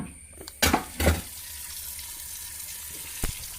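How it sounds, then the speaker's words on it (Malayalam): Food rinsed under a running kitchen tap: two short, close splashing gushes of water early on, then a quiet lull with a faint drip-like tap near the end. No voices. "അങ്ങനെ നമ്മൾക്ക് കഴുകിയെടുക്കണം"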